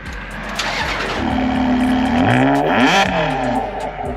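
A Ferrari engine starts close by, the cranking catching into a rising roar and a couple of revs that then settle toward idle, loud and alone with no talking.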